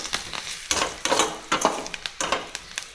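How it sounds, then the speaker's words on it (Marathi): Curry leaves sauté in hot oil in a pan for carrot bhaji, with sharp crackling bursts and spatters in irregular clusters, close and fairly loud. "आता कढीपत्ता टाकला थोडंसं परतून घ्यायचं"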